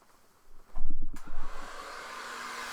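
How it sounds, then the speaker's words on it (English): A motor whirs up with a few pulsing surges, then settles into a steady, loud rushing hum of air that continues to the end. "this is a blower, and you can hear it"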